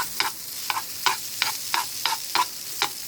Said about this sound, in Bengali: দেখেন নুডলসটা পুরোপুরি তেলের মধ্যে এরকম করে ভেজে নেবেন।